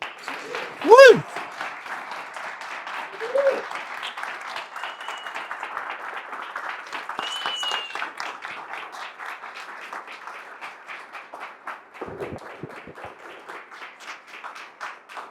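An audience at a lecture gives sustained applause welcoming a speaker. The clapping runs steadily for about fifteen seconds with a few voices calling out early on, then tapers near the end.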